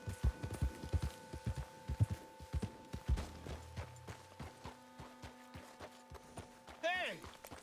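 A horse gallops in Red Dead Redemption 2, its hooves beating a quick, steady clip-clop that loosens into slower, scattered steps. Faint background tones hum underneath, and a brief whistle-like voice rises near the end.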